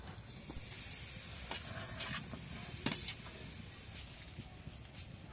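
Grated coconut is stirred in a hot wok for bhapa pitha. Faint sizzling and hissing run under soft scrapes and light clinks of a spoon against the pan, heard close and quiet.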